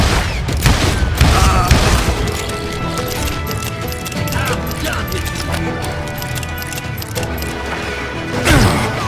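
Gunfire from the Western shooter game Call of Juarez Gunslinger, a dense nonstop barrage of shots and impacts layered over game music, loud and continuous throughout.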